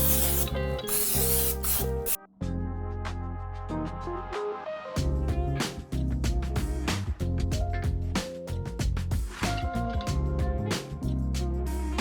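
Short bursts of cooking spray hit four ramekins before gorgonzola macaroni and cheese goes in to bake. The hissing blasts sound close and loud over a tonal, music-like background.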